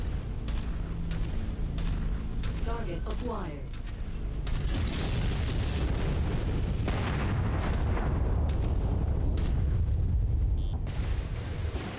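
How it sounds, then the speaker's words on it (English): An orbital cannon array strike in the MechWarrior 5 video game hits with heavy booming blasts and rumbling explosions layered with mechanical clatter, loud and sustained, while a player talks briefly. "Alright, orbital cannon array."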